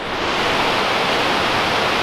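Waterfall on the Afon Mellte at Pontneddfechan in Waterfall Country, Wales: a loud, steady, broadband rush of falling water that fills the scene without pause, with no voices.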